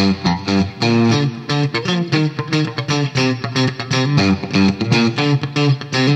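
Distorted electric guitar plays a quick, choppy surf riff with repeated picked notes, drenched in heavy reverb and effects, loud and upfront.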